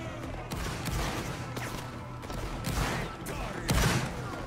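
Musket volleys in the Roblox Napoleonic Wars video game, with repeated crackling bursts of many shots overlapping in a dense, rolling fusillade at moderate loudness.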